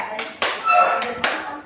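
A group plays a rhythmic clapping game in a classroom, sharp hand claps landing in a short patterned sequence, close and fairly loud, with a voice faintly underneath.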